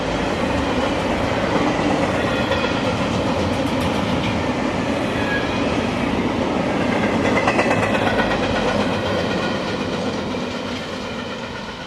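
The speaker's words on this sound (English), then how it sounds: "This intermodal hotshot is actually Q170, but carries the R because it's technically a reroute off its normal A-line path" A Q170 intermodal hotshot freight train rolls past close by on a reroute, a steady loud rumble of wheels and clattering cars that holds for the whole stretch and eases slightly at the end.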